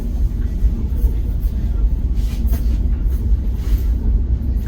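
Passenger train 11058 rolls steadily into a station yard near Ludhiana, a loud continuous rumble and rattle heard from on board with a few faint clanks over it.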